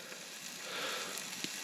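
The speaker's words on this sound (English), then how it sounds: "we've just put a steak on. The steak's sizzling away there." A steak cooks over a campfire at night at a wild camp beside a loch, sizzling and hissing steadily, with a few small pops and crackles.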